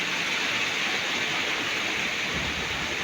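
Heavy rain pours down over water near a boat, a dense, steady hiss of falling drops filling the whole scene at moderate loudness with no talking.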